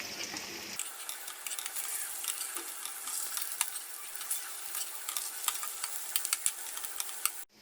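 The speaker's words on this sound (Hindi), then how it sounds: "अब इनकी साइड पलटी कर लेंगे और दूसरी साइड को भी गोल्डन ब्राउन होने तक पका लेंगे।" Hash browns frying in a pan over medium heat, a dense continuous sizzle close by with scattered crackles and pops and a few soft utensil taps, no one speaking.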